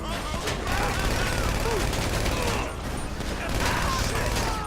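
Gunfire from GTA V on PC, dense bursts of shots and clattering mechanical noise, loud and continuous over a busy game soundscape.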